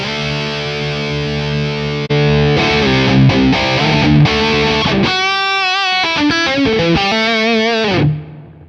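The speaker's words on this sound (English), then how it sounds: "this is what just the Dynamic 421 sounds like" Loud distorted electric guitar through a Steve Stevens cabinet impulse response miked with a Dynamic 421, playing a held chord followed by a choppy run of riffing notes and ringing harmonics, then a quick cutoff, with no voices.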